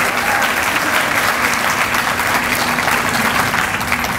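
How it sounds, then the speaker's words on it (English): An audience at a keynote dinner applauds loudly and steadily, a dense uninterrupted wash of clapping close by from start to finish. "let's give a round of applause and thanks to Chad Mazzara"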